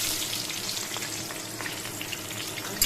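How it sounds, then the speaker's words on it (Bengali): Potato pieces fry in mustard oil in a wok, giving a continuous soft sizzle and crackle with a small clink near the end and no talking. "এই আলুগুলো আগে আমি লাল লাল করে ভেজে তুলে নিচ্ছি।"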